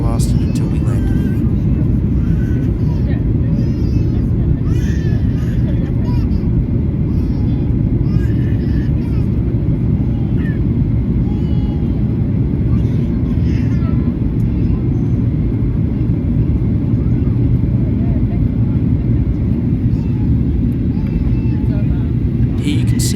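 A Boeing jet's cabin drones with a steady, loud low rumble and rushing air on a rough domestic flight, continuous for the whole stretch with no breaks.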